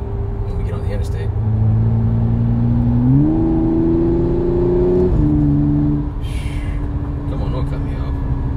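An Audi S5 coupe with a supercharged V6 accelerates on an interstate, its engine note steady, then climbing in pitch as it revs up before easing off, heard from inside the car with someone talking.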